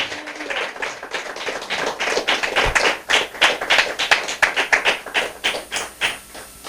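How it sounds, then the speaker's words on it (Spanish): A church congregation claps in rhythmic unison, sharp regular claps close and steady for several seconds, with no voices over them. "Le damos un fuerte aplauso a nuestro Señor Jesucristo."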